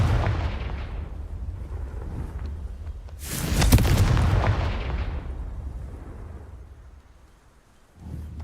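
Fiery Confringo spell blasts in the video game Hogwarts Legacy, a loud rumbling explosion swelling mid-clip with a sharp crackling burst, then a long fading roar and a fresh boom at the end, with no talk.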